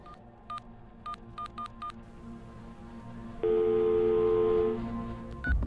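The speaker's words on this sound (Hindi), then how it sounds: "चल फोन मिला" A telephone number is keyed in on a phone with loudspeaker on: a string of separate dialing tones at an uneven rhythm, then a steady ringing or dial tone that holds for about a second before a final short tone, all fairly close.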